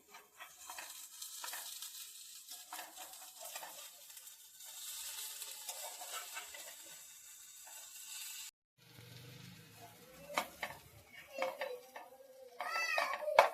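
Stuffed okra (bharli bhendi) being turned over in a frying pan, with faint sizzling, scraping and clinks of a utensil against the pan, quieter after a brief pause, then sharper clatter toward the end.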